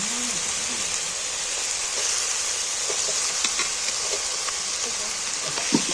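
Egg paneer fries in spiced oil, giving a steady, bright sizzle that stays even and close throughout, with a few soft stirring clicks underneath.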